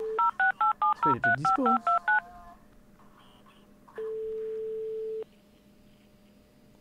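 A video-game phone is dialed in a roleplay ambulance game, giving a quick string of clear keypad beeps, then a single long ring tone after a short pause. Someone briefly talks over the dialing.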